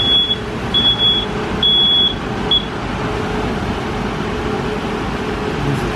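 A 2017 Micro Bird bus with a Duramax diesel engine runs at a steady, close rumble, broken by a few short, high electronic beeps early on.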